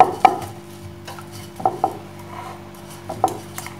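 Wooden rolling pin rolling out coconut-and-sugar stuffed sweet paratha dough on a board, with a few soft knocks and rubbing strokes close by as the dough is worked, no talking.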